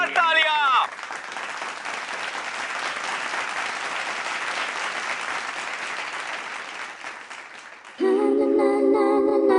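Loud, sustained audience applause at a comedy show, filling the middle of the clip between brief bursts of musical stings at the start and end.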